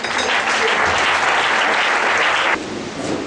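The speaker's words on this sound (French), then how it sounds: "applaudissements pour acclamer Jésus" A church congregation at a Pentecost service applauds loudly and steadily in a dense, sustained burst of clapping that cuts off sharply near the end, leaving a softer room tail.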